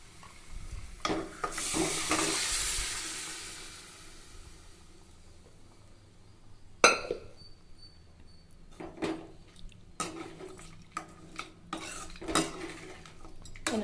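A spoon scrapes and clinks against a metal pot in short bursts, stirring thick goat head curry, with no voices present.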